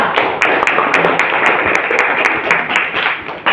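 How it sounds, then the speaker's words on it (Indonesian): Classroom of eighth-grade students clapping for a classmate, a dense, close round of hand claps with sharp individual smacks standing out, loud and continuous throughout. "Yuk, kita kasih tepuk tangan dulu buat Cinta Kela."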